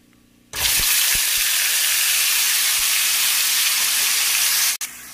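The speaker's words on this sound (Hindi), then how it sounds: "जब तक हमारा प्याज इधर अभी भुन रहा है" Ground onion puree hits a hot pan with cumin and bursts into a loud, steady sizzle that holds evenly for several seconds before cutting briefly near the end.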